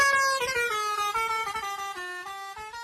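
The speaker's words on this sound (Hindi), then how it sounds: "जब ये तुमसे दूर जाती है तो हॉर्न की आवाज लो पिच में बदल जाती है" A car horn sounds continuously as the vehicle passes, its steady tone sliding down in pitch as it moves away.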